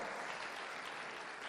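Steady applause from a church congregation fills the space, a dense continuous wash of many hands clapping at even loudness, with no voices rising above it.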